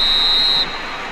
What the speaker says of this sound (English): Ref, blow the whistle. Blow the whistle.